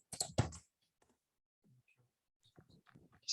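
Someone types on a computer keyboard in a room with a fan running, producing a quick cluster of clicks followed by sparse, faint taps with quiet gaps between them.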